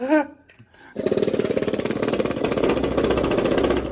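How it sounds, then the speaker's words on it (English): An air chisel hammers at a piece of a Ford Foxbody steering column, entering after a short quiet lead-in with brief speech, then running as a loud, rapid, continuous pneumatic rattle close to the microphone. "Okay, so we got that piece off with the air chisel."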